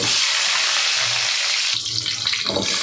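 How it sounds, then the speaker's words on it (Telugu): Drumstick pieces (moringa pods) fry on high heat in hot oil with whole spices for a Rayalaseema-style roast, giving a loud, continuous sizzle with a brief stirring shift partway through. "ఇప్పుడు మునక్కాయలు మనం వేసిన తర్వాత కొద్దిగా హైలో పెట్టేసి వేయించుదామండి వీటిని"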